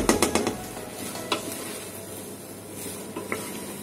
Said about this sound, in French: Donc là, je remue en fait pour que les arômes se mélangent.